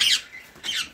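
A parrot, one of several caged birds in a small zoo, gives two sharp, harsh squawks close by, separated by a short pause.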